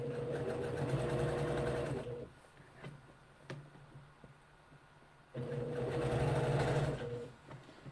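A sewing machine stitching down a shirt sleeve, a close steady mechanical whir in two bursts with a quieter pause between them, and no talking over it.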